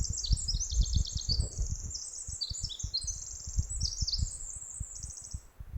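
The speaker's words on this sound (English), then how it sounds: "listening to the birds seemingly celebrating the arrival of spring." Birds chirp and twitter in quick overlapping bursts on a spring beach on Haida Gwaii, with a soft, irregular low rustle beneath and no voices.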